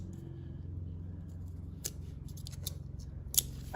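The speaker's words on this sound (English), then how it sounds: "I have scissors, so I just open it." A few sharp scissor snips, quick and close, cutting open a sealed package, with a low steady hum underneath and no talking.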